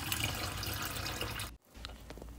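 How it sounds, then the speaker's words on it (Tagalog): Water drains off soaked rice grains during preparation of chicken kabsa, a steady close pour that stops suddenly and leaves faint trickles and drips. "Alisan ko na ng tubig itong binabad kong bigas."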